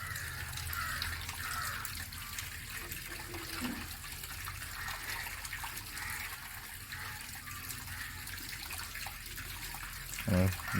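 Water runs out from the bottom of a homemade natural water filter in a steady, gentle stream. The flow stays continuous and fairly quiet, with faint voices in the background and a brief splash near the end.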